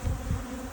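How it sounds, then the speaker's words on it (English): Honey bees buzz steadily inside a packed polystyrene hive in early spring, a dense, continuous low drone close to the box with a slight swell in loudness. "So this is a box of bees"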